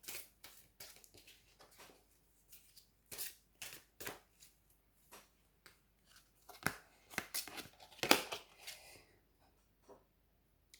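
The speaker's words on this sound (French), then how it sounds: "On va prendre une carte des esprits de la forêt." Oracle cards are shuffled and drawn by hand, soft irregular riffles, slaps and papery flicks coming in scattered bursts, close but quiet, with a sharper snap near the end.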